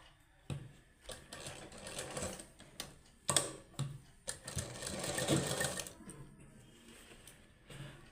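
A sewing machine stitches fabric along a fold in close, rattling bursts. It starts and stops several times, with short pauses between runs.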